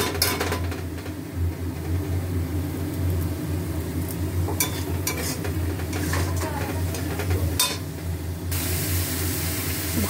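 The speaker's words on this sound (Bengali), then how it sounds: "পালং শাক কষানো হচ্ছে" Spinach stir-frying in ghee with ground cumin and coriander in a pan, a steady close sizzle with soft stirring scrapes running continuously and no talking.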